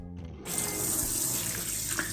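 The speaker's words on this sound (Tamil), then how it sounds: "இனி இந்த கிழங்கை வாஷ் பண்ணணும்" Tap water suddenly gushes on and runs steadily into a sink while peeled cassava is washed, a loud close continuous splashing after a brief quieter start.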